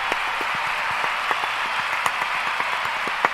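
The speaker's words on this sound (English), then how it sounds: "That deserves a round of applause" Steady applause from a crowd, a dense wash of clapping with a few sharper claps standing out, continuous throughout.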